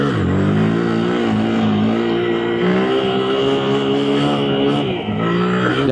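A Honda Grom motorcycle's small engine revs hard and holds high through a handbrake wheelie, a loud, close, steady buzzing drone that sags briefly near the end.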